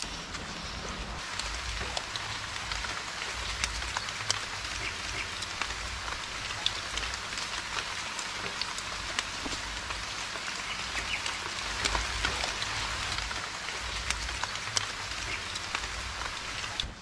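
Steady rain pours over jungle foliage on a remote island, a dense continuous hiss of drops with scattered louder patters, moderately faint and unbroken throughout.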